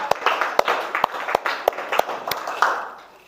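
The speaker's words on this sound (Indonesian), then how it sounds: "tepuk tangan buat kelompok Al-Kabir" A small classroom group gives a short burst of sparse, uneven hand claps nearby, a few sharp individual claps rising out of faint room noise before tapering off.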